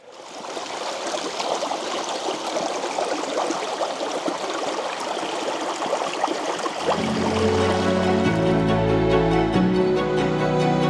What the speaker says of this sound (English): The creek is nearby here somewhere. Oh, there it is.